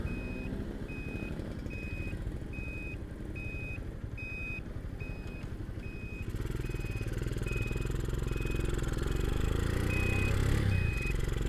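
Honda CB motorcycle fitted with an aftermarket Scorpio exhaust, its engine running steadily throughout with a low, continuous drone that grows slightly louder and fuller partway through, alongside a steady repeating beep.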